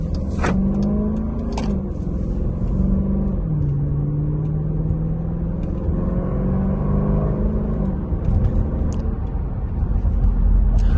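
A 2021 Dodge Durango R/T running on a 93-octane tune, its engine droning steadily from inside the cabin with shifting tones as it accelerates and changes gears, plus occasional clicks and bumps throughout.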